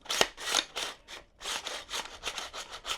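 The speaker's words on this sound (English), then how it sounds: "from bare bones, out of the box, a rifle will sound like this" Gritty metallic scraping and clicking as a new, out-of-the-box rifle action is cycled repeatedly by hand, close up with a rough, rasping texture and no talking.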